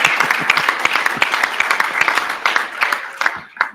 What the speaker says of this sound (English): Let's break some awkward silence with a round of applause for our school retirees and for our education support professionals.